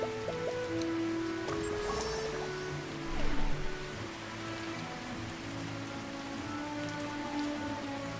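Steady rainfall in the farming video game Kitaria Fables, a continuous patter of drops on surfaces with scattered drips, constant and moderately close throughout with no voices.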